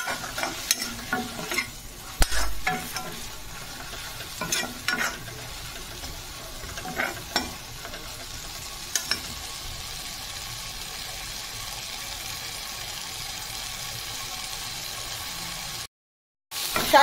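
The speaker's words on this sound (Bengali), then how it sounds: "শাকটা দেখুন ভাজা ভাজা হয়ে গেছে" Jute leaves fry in a pan with salt and turmeric, sizzling softly while a spatula stirs and scrapes in repeated close strokes, with no talking.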